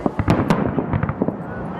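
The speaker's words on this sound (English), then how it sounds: "You can't have the 4th of July without fireworks." Fireworks go off for the 4th of July in a rapid run of sharp pops and cracks, loud and close, with talk mixed in.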